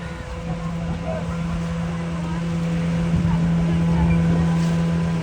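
A fishing boat draws closer at sea with its motor running, a steady low engine drone holding throughout against a wash of wind and water, with people talking nearby.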